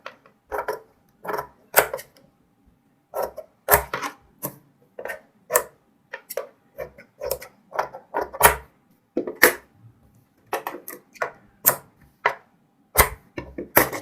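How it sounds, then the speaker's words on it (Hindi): Scissors cutting cotton fabric around a kurti double collar neckline with a half-inch margin, a run of close, crisp snipping clicks in uneven bursts with short pauses, alone without talk. "अब हम हाफ इंच मार्जिन छोड़ते हुए कटिंग करेंगे।"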